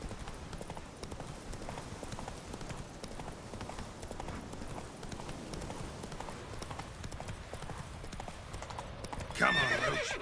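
Hooves of the horse Roach clip-clop in a steady trot through a video game scene, with a whinny breaking out near the end over a constant backdrop of game ambience.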